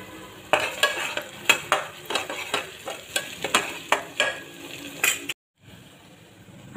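Tempering oil with curry leaves, onion, garlic and spice masala for a sprouted moth bean dish sizzles softly in a pan while a spoon scrapes through it in a steady rhythm of distinct strokes, broken by a brief dropout near the end.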